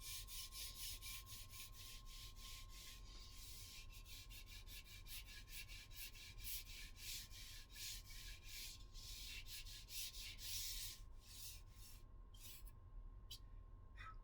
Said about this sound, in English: I'll take my sandpaper and just let it go.